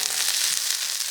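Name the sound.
chili peppers frying in oil in a wok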